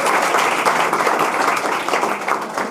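An audience at a film trailer event bursts into loud, sustained applause, with dense clapping that holds steady for the whole stretch.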